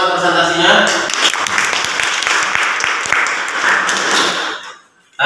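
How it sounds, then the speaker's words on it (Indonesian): Classroom applause after a student presentation, dense steady clapping from the class with some voices mixed in, ending abruptly. "Tepuk tangan dulu buat kita semua atas presentasinya."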